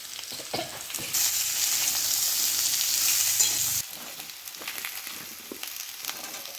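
Potatoes and green bananas frying in hot oil with other vegetables, a steady loud sizzle under repeated stirring and scraping, easing to a quieter crackle partway through.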